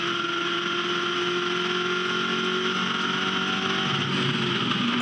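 V8 Ute Series race cars in Adelaide scream at speed toward turn 8, a loud, sustained high-revving engine drone with shifting pitch, close and continuous, no speech heard.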